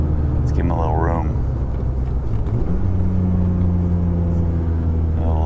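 A BMW E36 M3 engine pulls hard in second gear, a loud continuous in-cabin rumble with rising pitch, while people talk over it.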